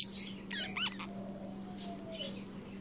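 Pet parrotlets Tammy and Big Bird give a few quick, high chirps and squeaky calls close by over a steady low household hum, with a faint whistle-like tone trailing through the middle.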